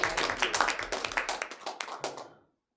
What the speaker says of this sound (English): Let's just clap for that for a second.